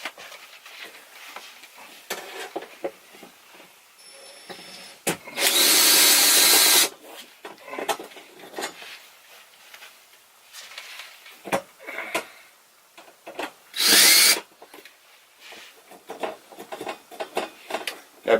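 A power drill backs screws out of an RV closet rod, whirring loud in two sustained bursts with clicks and handling knocks between them.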